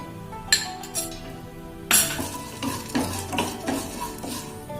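Chana dal and urad dal fry in oil in a pan for capsicum rice, as a spoon stirs with sharp metallic clinks and scrapes over a soft, steady sizzle, with no voices.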